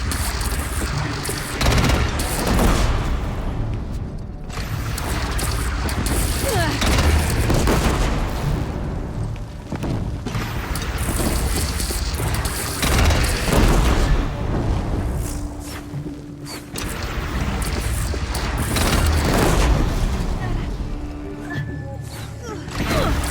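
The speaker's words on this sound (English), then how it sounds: "They only have one cannon!" Cannon fire and explosions during a bandit clan battle in the video game Horizon Zero Dawn, a dense, continuous barrage of booms and gunfire running throughout with no pauses.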